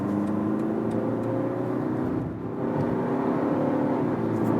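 BMW 118d with a 2-litre four-cylinder diesel pulling from 60 to 100 km/h, a steady mid-pitched engine hum and rising whir heard from inside the cabin, with a brief dip midway, no talking.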